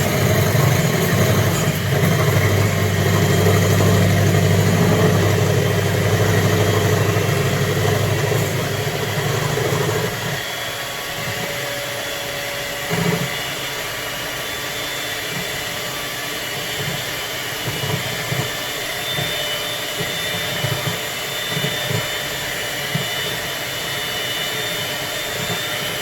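Electric mixer whisking coconut flour bread batter, a loud motor whir running steadily for about ten seconds before stopping, followed by quieter kitchen handling and a few faint knocks.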